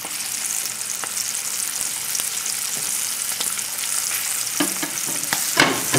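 Smelts deep-frying in hot oil over a fully raised flame, a steady, dense crackling sizzle running throughout with a few sharper pops and spits near the end, close and fairly loud with no talking.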